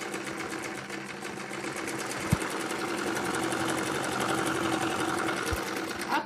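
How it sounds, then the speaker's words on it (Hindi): Sewing machine stitching fabric for a baby dress, a loud continuous rapid mechanical whirr running nearly the whole time with a couple of faint thumps, close up and alone. "यहाँ से सिलाई लगाएंगे"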